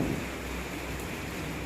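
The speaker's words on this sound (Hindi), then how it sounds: "बारिश भी इतनी तेज़ शुरू हो गई" Heavy rain pours down in a dense, steady hiss that holds even and unbroken throughout, with no voices over it.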